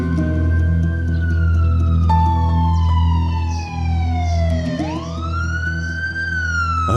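An ambulance siren wails, sweeping up and down in long rising and falling tones, loud and close, with no voices over it.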